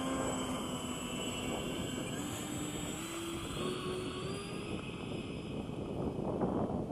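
An FMS A-10 RC model jet taxis at about half throttle across a grass field, giving a steady, loud whine with a faint rising tone and no pauses from start to finish.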